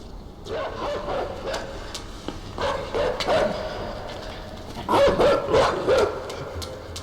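A dog in the video game Inside barks repeatedly, a run of sharp yipping barks in several bursts, moderately close.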